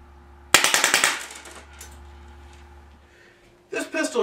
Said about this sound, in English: We're going to go ahead and wrap it up with full speed, 6 rounds at 600 rounds per minute.